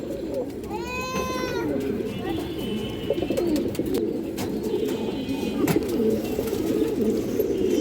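Green-necked pigeons at a pigeon sale giving soft cooing calls, with a couple of distinct coos over a background of chatter and someone talking nearby.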